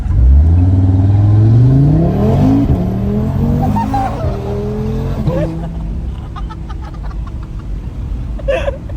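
Stage 2 Audi RS3 accelerating hard, its engine note climbing loudly through the revs before a gear change and a second rising pull, then settling into a quieter cruise with brief voices and laughter in the car.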